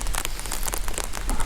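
Steady rain pattering on a surface throughout, with dense crackly drops at an even moderate level and no voices.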